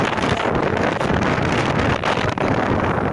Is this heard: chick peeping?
no